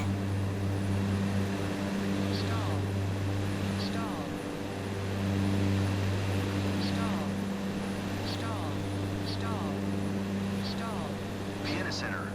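Steady propeller drone of a Cessna Grand Caravan engine in a flight simulator runs continuously, with strong low harmonic bands holding level throughout while faint radio chirps and speech come and go over it.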